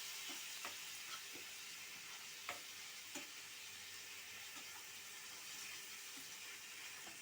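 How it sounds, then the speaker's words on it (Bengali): Spice paste for a bhetki fish curry sautéing in a pan, a steady soft sizzle with occasional stirring scrapes and clicks, close and moderately quiet, with no talking. "দেখো মশলাটা আমাদের কষা চলছে, এইরকম হবে কষতে কষতে।"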